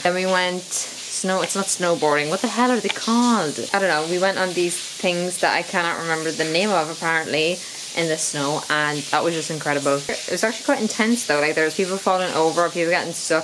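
A shower runs as a steady broadband hiss beneath a person talking continuously, with the water noise holding constant throughout.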